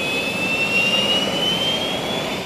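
A jet engine on a jet-powered land speed record car roars loudly and steadily, a thick broadband rush with a thin high whine that slowly rises in pitch, no voices over it.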